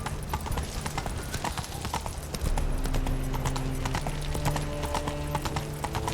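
The horse Roach gallops in The Witcher 3, hooves drumming in a fast, steady clip-clop close by, with game ambience and a low hum underneath and no speech.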